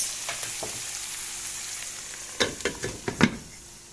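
Kuyrdak frying in a pan while being stirred, a low sizzle underneath with a burst of several sharp scraping clatters of the utensil near the end, close by with no voices.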